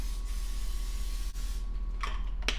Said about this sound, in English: Can't forget some cooking spray.